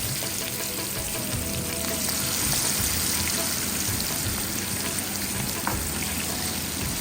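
Prawn pieces fry in coconut oil in a pan, making a loud, constant crackling sizzle that stays even from start to finish.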